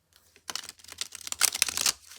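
A tarot card deck being shuffled by hand, a rapid run of crisp riffling card clicks and flutters that builds in loudness over about two seconds, close and alone without talk.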